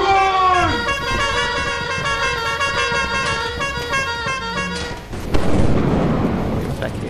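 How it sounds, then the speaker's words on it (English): Several players honk horns in the video game Lethal Company, a long sustained blaring chord that cuts out near the five-second mark, followed by rumbling noise and faint talk. "If we all honk at him, we'll scare him."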